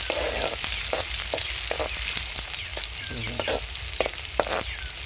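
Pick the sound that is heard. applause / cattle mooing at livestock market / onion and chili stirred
onion and chili stirred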